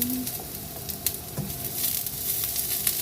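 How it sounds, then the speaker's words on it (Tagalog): Onion, garlic and ginger sizzle steadily in hot oil in a pan while Bicol Express is cooked, a continuous broadband crackle with occasional stirring clinks and scrapes, fairly close and with no voices. "Ayan, mainit na yung kawali. Maglagay na tayo ng konting mantika. Isa na natin itong sibuyas, bawang,"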